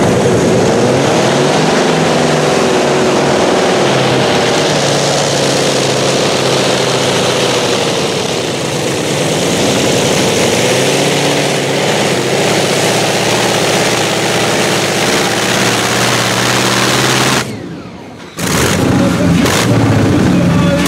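A loud, throaty 18-cylinder radial piston engine roars steadily for most of the clip, with a brief dropout near the end before the rumble resumes.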